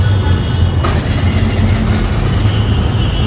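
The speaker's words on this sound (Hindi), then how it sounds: "ये बर्गमैन की आवाज़" A Suzuki Burgman Street 125 scooter's exhaust putters steadily at idle close by, a low continuous engine note heard alone for a few seconds.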